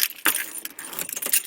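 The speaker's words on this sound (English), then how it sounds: "it has one of the little modern keys where you flip it out" A Fiat 500 flip-out car key jangling, bright metallic clinks in quick irregular bursts, close and fairly loud, with no speech.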